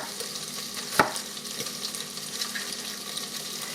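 Bacon frying in an electric pressure cooker pot, a low continuous sizzle with one sharp clack early on and faint scraping afterward.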